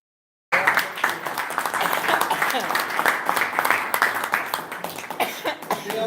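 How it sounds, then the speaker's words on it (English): A speakers bureau meeting audience gives Bill another round of applause, a dense, steady burst of clapping that starts abruptly and carries on near and loud throughout. "how about we give Bill another round of applause?"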